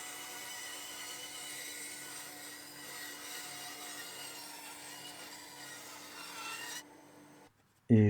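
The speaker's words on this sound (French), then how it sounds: "j'ai utilisé des limes pour affiner un peu la forme, nettoyer les contours" Hand files rasp steadily over wooden cloud shapes in a workshop, a continuous close scraping for several seconds. The scraping stops abruptly, leaving a brief quiet and then a sharp knock.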